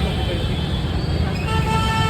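Heavy street traffic in Balajinagar just after rain: car horns toot over a constant roadway rumble close by, while voices speak nearby.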